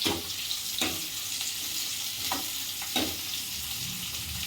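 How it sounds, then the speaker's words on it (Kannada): Onions frying in hot oil in a pan for chicken curry, a steady close hiss and sizzle with a few soft stirring scrapes at intervals. "ಈರುಳ್ಳಿ ಹಾಕ್ಕೊಂಡು ಚೆನ್ನಾಗಿ ಫ್ರೈ ಮಾಡ್ಕೊಳ್ಳಿ"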